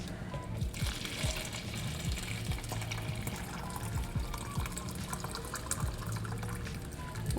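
Hot water pours steadily into butter for a homemade chicken stock, making a continuous trickling, bubbling stream with small splashes throughout, close and moderately loud.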